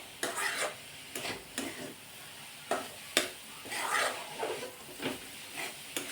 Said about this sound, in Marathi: आता हा गुळ यामध्ये छान असा मिक्स करून घेऊन